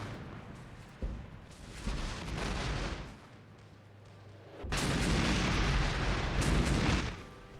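Artillery fire and explosions in the Armored Brigade war game build into heavy booming barrages, a sudden blast followed by rolling rumbling impacts that swell loud and then fade, with no talking.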